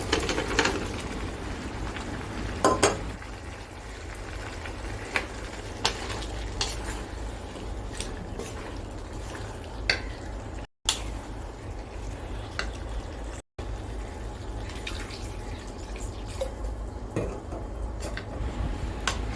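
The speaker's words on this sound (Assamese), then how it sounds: "ইয়াতে আমি চব্জিখিনি ঢালি দিম।" Vegetables stirred and frying in a pan for hilsa fish curry, a steady close sizzle with scraping spatula strokes and occasional clinks of utensil against metal throughout, no talking.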